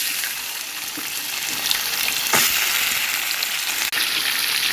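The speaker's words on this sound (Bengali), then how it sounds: "কড়াইয়ের মধ্যে আমি মুরগির মাংসগুলো আগে ভেজে নিব।" Chicken pieces fry in a hot kadai, giving a steady, close, loud sizzle with a faint stirring knock near the middle and a brief clack near the end. No voices.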